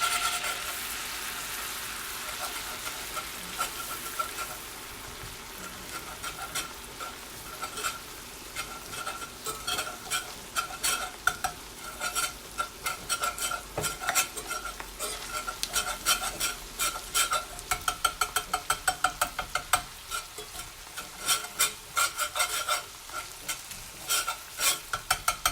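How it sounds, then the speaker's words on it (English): A whisk stirs flour into sausage gravy in a pan. Continuous sizzling and frying run throughout, with quick rhythmic metallic scraping and clinking that speeds up near the end, close and steady, with no voices. "Going to whisk in my flour."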